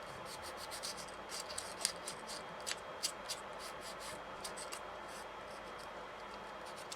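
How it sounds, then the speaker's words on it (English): Sanding the leftover edge on a scale model SU-152 tank mantlet, a faint, close dry rasping with quick irregular scrubbing strokes and small scratchy peaks, with no voices. "I'm just sanding off some of the edge here"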